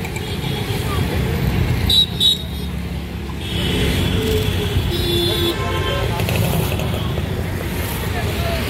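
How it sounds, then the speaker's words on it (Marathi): Steady roar of moving road traffic in Ahmedabad's Paladi area at 8 pm, just after a signal releases, engines and tyres rumbling continuously, with a few vehicles passing nearby; loud and unbroken throughout. "तसा हा वाहता रोड आहे, सिग्नल सुटल्यानंतर ट्रॅफिक आहे, पण मूविंग ट्रॅफिक आहे"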